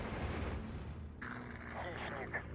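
Distant bombing explosions in the WWII strategy game Steel Division 2 rumble low and muffled beneath a voice talking, with a deep booming swell in the middle.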